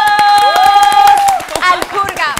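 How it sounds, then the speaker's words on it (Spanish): A studio audience on a Spanish-language TV show welcomes the arriving guests with loud, rapid clapping and a high sustained cheer, followed by mixed shouts as the applause continues. "quiero que los recibamos con un fuerte aplauso"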